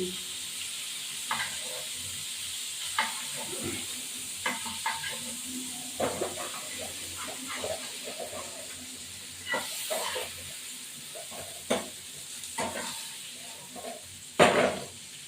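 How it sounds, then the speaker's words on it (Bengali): Prawns fry in a pan, giving a steady soft sizzle and hiss with scattered crackles and scraping stirs throughout, moderately close and fairly quiet. "চিংড়ি মাছ বেশি ভাজবে"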